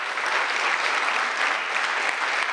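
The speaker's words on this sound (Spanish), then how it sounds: "Denle un aplauso al Todopoderoso." A church congregation bursts into steady, dense applause during a Spanish-language worship service, a full room of clapping hands sustained evenly throughout with no voices standing out.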